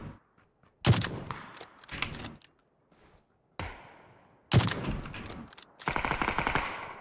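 Bursts of automatic rifle fire in the battle-royale shooter PUBG, several loud sharp volleys with short pauses between them, the last a sustained rattling burst with no talk over it.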